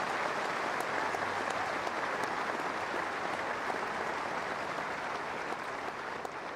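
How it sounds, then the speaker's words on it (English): Crowd applause for the players at Kooyong after the 2011 tennis final, a steady, even roar of many hands clapping, fairly distant and sustained throughout. "would you put your hands together for all of the players who have been here this week"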